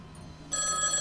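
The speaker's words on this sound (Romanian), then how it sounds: "îi sună telefonul" Telephone ringing in the video game Lucius: a bright, steady electronic ring tone starts about halfway through and holds loud to the end, with no talk over it.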